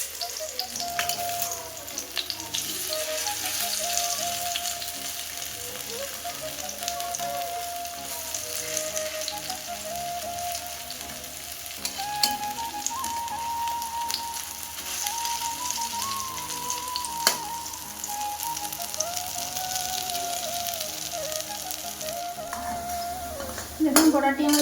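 Prawn-head lentil fritters (dal bora) sizzle steadily in hot oil, a continuous close crackling hiss with occasional soft stirring and utensil taps, no voices.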